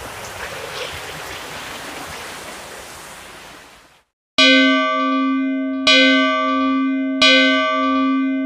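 Steady rain pours in a broad, loud hiss for about four seconds, then cuts out abruptly; no voices are present.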